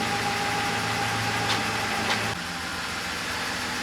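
A BMW 325i engine idles through its stock muffler with a steady low hum and faint mechanical ticking, fairly quiet and even throughout.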